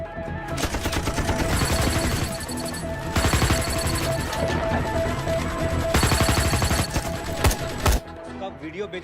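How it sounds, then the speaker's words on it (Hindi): Sustained gunfire in a tense scene, dense overlapping volleys and rapid crackling bursts that run loud and nearly nonstop, with a few brief pauses and voices mixed underneath. "हम तो फायरिंग कर रहे हैं सर"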